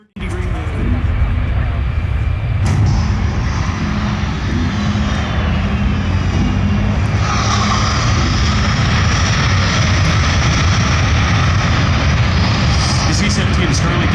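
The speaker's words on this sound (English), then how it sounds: "The C-17 is currently demonstrating the ability to back under its own power" A Boeing C-17 cargo aircraft reverses under its own power at an airshow airport, its engines producing a loud, continuous roar and whine that jumps sharply in intensity partway through and holds steady, with faint voices underneath.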